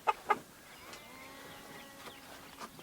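Backyard laying hens cluck and chatter nearby, two louder squawks at the start followed by softer, scattered clucks over a low outdoor background.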